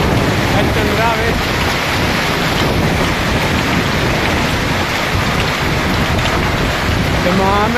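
Heavy rain mixed with ice pelts down in Dammam, Saudi Arabia, a loud, dense and unbroken hiss of drops striking surfaces that stays steady from start to finish.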